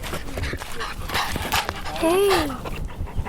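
A puppy pants close by in quick rhythmic breaths, with a short whine partway through, while a person speaks briefly.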